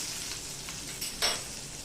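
Crushed garlic cloves frying in hot cumin tempering for a pumpkin sabzi, a soft continuous sizzle with one brief brighter crackle near the end.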